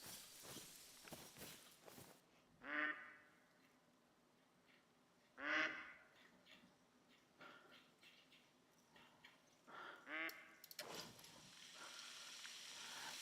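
Ducks quack in a few short bursts in the Call of the Wild hunting game at Layton Lake, spaced seconds apart over quiet ambience with soft footsteps, moderately close.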